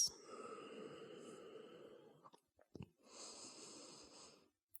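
Slow, deep yoga breathing during a leg stretch, with one long audible exhale, a short pause with small rustles, then another drawn-out breath close to the microphone.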